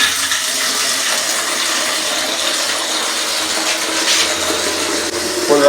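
Water gushes at full force from a newly fitted tap, a steady loud hiss and splash running continuously from start to finish.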